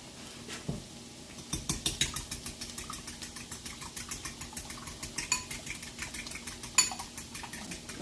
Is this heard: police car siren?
no